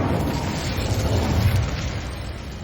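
The Incendio fire spell in Hogwarts Legacy is cast, producing a steady loud whooshing roar of flame with a rumbling low body, sustained and close, slowly easing toward the end.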